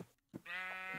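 Sheep bleat in a video game ranch setting: a short sound, then one long, clear, wavering bleat, close and alone with no talk.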